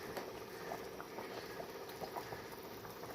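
Fish curry in a pot bubbling at a steady simmer, a dense continuous patter of small bursting bubbles at close range with no talk.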